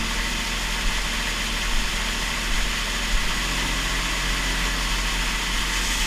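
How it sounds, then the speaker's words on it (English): Hutchinson grain auger churning fast while unloading dry corn, a steady, loud mechanical drone with a low rumble and faint vibration, running evenly throughout with no talking. "See how good our Hutchinson auger is. We got it churning pretty fast."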